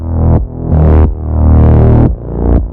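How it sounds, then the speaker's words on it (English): A heavily compressed, distorted mix where a thumping kick and sustained bass swell and dip together, pumping roughly every half second to second, loud and dense. "every time the kick drum hits, the bass drum drops a little bit"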